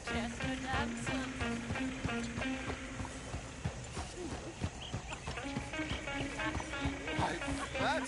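Horse hooves clip-clopping steadily as a horse-drawn coach rolls along in Red Dead Redemption 2, with occasional whinnies, background music and voices talking over the rhythmic hoofbeats.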